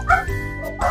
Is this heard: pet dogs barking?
yes